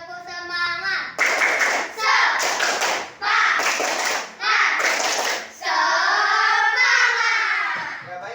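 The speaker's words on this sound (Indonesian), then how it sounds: "Tepuk semangat." A classroom of schoolchildren performs a rhythmic cheer clap, bursts of loud group clapping in short regular blocks alternating with chanted young voices, ending in a drawn-out shout.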